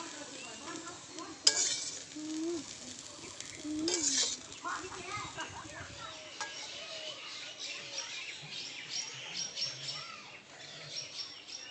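Bitter gourd and potato crisp-frying in a pan, a soft sizzle under scraping stirs and a couple of sharp utensil knocks against the pan, close by, with faint bird calls in the background.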